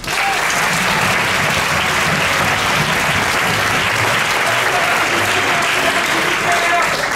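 A theatre crowd at an improv festival claps loudly and continuously for the volunteers, a thick, sustained ovation without pause.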